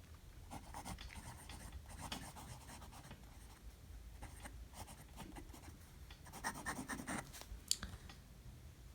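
Nib of a fountain pen loaded with Noodler's 54th Massachusetts ink scratches across low-quality paper in close-up, soft rhythmic strokes with brief pauses and slightly louder scratching near the end.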